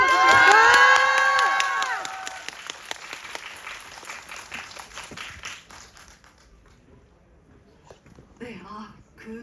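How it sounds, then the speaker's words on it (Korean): A cinema audience at a special guest screening of Escape at CGV Yongsan claps and cheers as the director and actor come on stage. Loud shouts ride over dense applause that fades out over several seconds. "여러분 박수 길게 쳐주세요."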